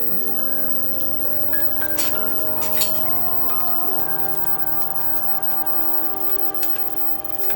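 Pupusas fry in a pan on high heat, giving a steady, dense sizzle like rain on a surface, close and continuous throughout, with a few faint clinks over the top.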